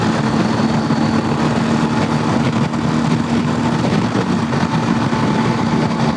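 A BMW R1250 GSA motorcycle engine running in Dynamic Pro riding mode on an open road, a loud, steady drone with constant wind rush and no break across the stretch.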